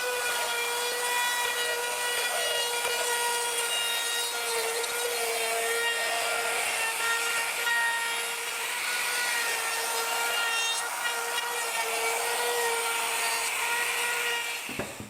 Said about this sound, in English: I want to round all the corners using an 1/8 inch round over bit.